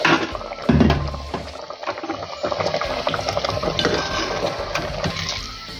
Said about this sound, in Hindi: पानी हमारा बॉयल हो गया, अब हम इसमें डालते हैं।